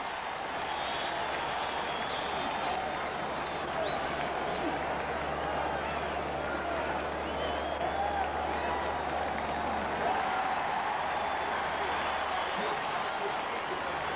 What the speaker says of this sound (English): Crowd noise could have influenced them. There's a lot of noise in here now.